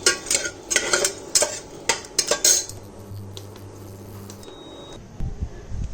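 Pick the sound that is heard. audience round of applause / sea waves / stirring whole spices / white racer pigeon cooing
stirring whole spices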